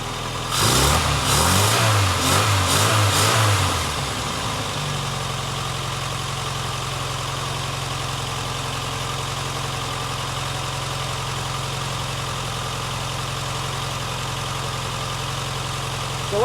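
Barn-find Austin Maestro engine running: a brief rev in the opening seconds settles into a steady, low, even idle that holds for the rest of the clip, close and alone with no voices.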